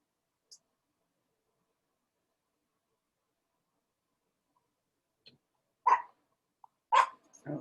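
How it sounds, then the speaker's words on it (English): A dog barks a few times in the distance, short isolated yaps following a long quiet stretch. "Oh, somebody got a dog."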